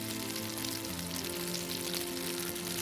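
Potato gnocchi frying in brown butter in a saute pan, giving a steady, close, dense sizzling hiss that holds evenly throughout with no voices over it.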